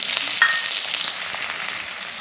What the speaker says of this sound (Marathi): आता याच्यामध्ये कांदा परतून घ्यायचा आहे